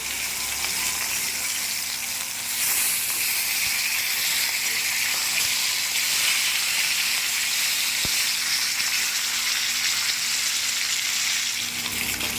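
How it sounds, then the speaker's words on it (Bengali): Fish fries in hot oil with a loud, dense, unbroken sizzle that holds steady and close throughout, with no voices. "তেল গরম হয়ে গেছে, এবার মাছটা দিয়ে দেব।"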